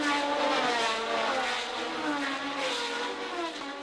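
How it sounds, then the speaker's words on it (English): Formula 1 race cars of 1971 at Monaco scream downhill past the Tip-Top bar toward the Mirabeau hairpin, a loud sustained high-pitched engine wail with shifting pitch, steady throughout and free of talk. "cars speed downhill, past the tip-top bar and into the Mirabeau hairpin"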